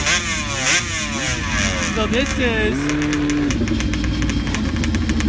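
Pro drag racing motorcycle engine revving in the staging lanes at a drag strip season opener, loud rising and falling revs with a sharp crackle of pulses, under someone talking nearby.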